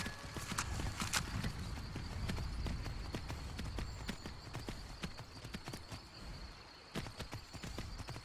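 Horse hooves clip-clop in Skyrim, a steady run of sharp hoofbeats over a dense game ambience with occasional louder clacks and no talking.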